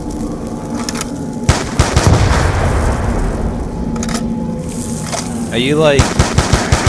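Rapid gunfire from shooting zombies in Call of Duty: Black Ops 2, loud bursts of automatic fire with booming shots, while players talk and shout excitedly over the action.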